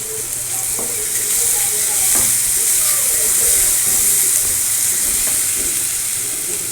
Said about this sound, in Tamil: நல்லா மசாலாவோட பிளெண்ட் பண்ணி நல்லா ஃப்ரை பண்ணிக்கோங்க ஃப்ரெண்ட்ஸ்